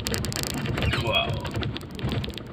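Rain drumming and hissing around a car driving through a gloomy downpour, a constant wash of drops with occasional louder splatters.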